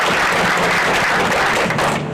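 Sustained audience applause at an outdoor groundbreaking ceremony in Louisville, Kentucky, a dense, steady wash of many hands clapping at full volume throughout, with no talk over it.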